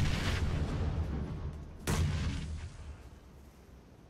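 A grenade detonates in a shooter video game: a muffled boom opens, then a second blast lands about two seconds later, both fairly faint and fading into a low rumble.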